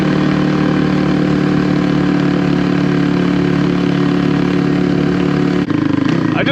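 A Kawasaki KLX300R dirt bike engine lugs along in fourth gear with a steady, loud mid-pitched drone and a constant rhythm. Near the end it dips briefly and shifts tone.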